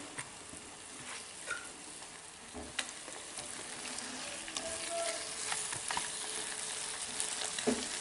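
Mixed vegetables such as potato, peas, carrot and fenugreek cook in a pan with a quiet, steady sizzle and occasional light scrapes and clinks of stirring, and no voices over it.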